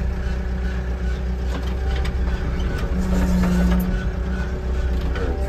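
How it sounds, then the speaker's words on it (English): A four-wheel drive vehicle's engine runs with steady rumbling while it slips and skids about at low speed, a close, continuous mechanical drone with a brief rising whine midway. "Just put the four-wheel drive on, the button down there. And we're just skidding about a bit."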